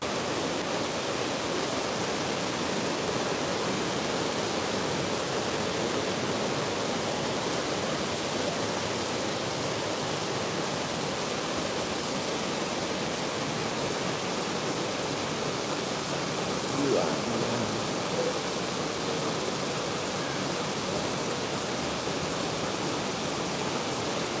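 A waterfall in misty, rainy, cold weather rushes in a constant broad roar that stays even for the whole stretch, with only a faint brief tone partway through.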